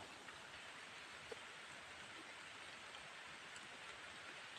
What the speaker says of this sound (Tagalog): Kung kailan naman kami umakyat, saka naman umambon.